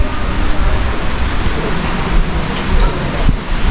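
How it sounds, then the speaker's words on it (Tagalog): Steady, dense wash of heavy rain pouring down nearby, with a deep rumbling undertone and no voices. "Lakas ng ulan"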